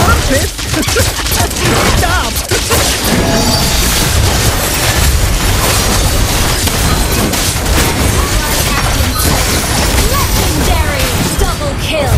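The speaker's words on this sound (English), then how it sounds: "Team destroyed a turret!" Dense, loud booms and crashes fill a busy Mobile Legends battle as a turret is destroyed, with constant skill effects layered under intermittent game voice lines.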